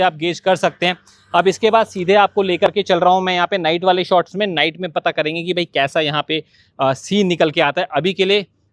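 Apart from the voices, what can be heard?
No distinct noise like a dog, phone or traffic.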